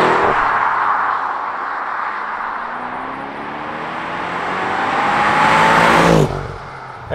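A BMW M550i xDrive accelerating hard, recorded from inside the cabin: its engine note climbs steadily through a long pull, then cuts off abruptly with a shift near the end.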